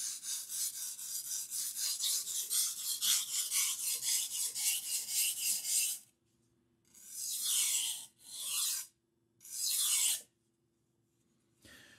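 A knife is sharpened on a whetstone, first with a quick run of rhythmic rasping strokes, then after a pause three slower, separate scraping passes, close and quiet.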